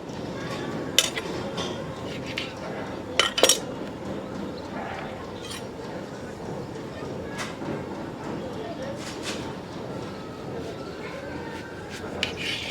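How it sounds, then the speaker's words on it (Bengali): Knife cutting eggplant into thick slices about half a centimetre wide, giving a few sharp taps and clinks against the board amid low kitchen background noise, with a voice present. "বেগুনগুলো কেটে নিলাম"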